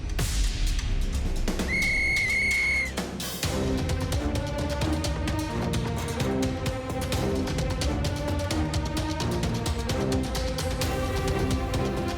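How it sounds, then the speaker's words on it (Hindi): A cartoon whistle is blown to start a race in a Chhota Bheem episode. One sustained shrill blast rings out over loud, busy background music, and the music carries on after it. "सीटी बजाते ही रेस शुरू हो जाएगी।"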